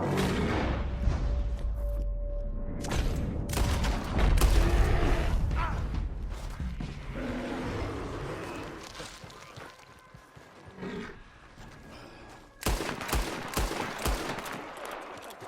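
Gunfire in Red Dead Redemption 2 during a hunting outing, rapid shots and bursts mixed with animal roaring and chaotic game noise, loudest early and tapering into quieter stretches before a final flurry.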